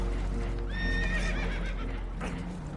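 Spooked horses in Red Dead Redemption 2 whinny and neigh loudly, several rising-and-falling calls close up over a rumbling, hoof-clattering background, with no voices.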